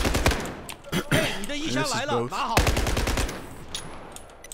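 Rapid bursts of SCAR-H rifle fire in Battlefield 4, loud and close, with a dense volley at the start and another sustained burst partway through, while someone talks over the shooting.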